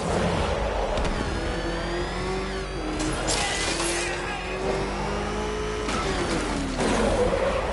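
A car driven in the video game Arkham Knight roars steadily with engine revving and rising pitch sweeps throughout, loud and continuous with brief bursts of noise.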